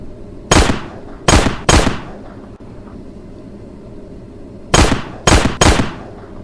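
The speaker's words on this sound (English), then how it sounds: "Squeeze off a few rounds here and then we'll reload the revolver." A revolver fires six loud, sharp shots in two groups of three, each crack ringing out briefly against a quiet background.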